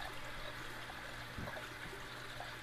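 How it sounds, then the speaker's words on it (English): An air bubbler runs in an aquaponic fish tank, giving a steady faint trickling and bubbling with a low hum, continuous and fairly quiet, with no talk. "I just put my air bubbles in this tank"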